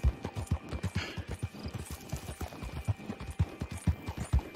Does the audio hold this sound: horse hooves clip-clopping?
yes